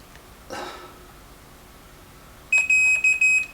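A multimeter continuity tester beeps on a Technics SL 1900 turntable cord, giving a run of sharp high electronic beeps, near and loud, after a soft handling noise earlier.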